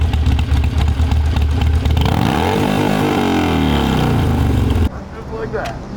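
A motorcycle engine revs loudly, climbing and falling in pitch, then cuts to a lower idle as someone speaks briefly.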